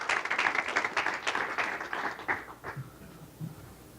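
A church congregation claps together as an offering of praise, a dense burst of applause that thins into a few scattered, fading claps.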